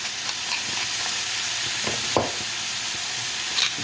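Thinly shaved ribeye sizzles and fries in a pan, a steady close crackle with occasional stirring scrapes and small pops, no talking.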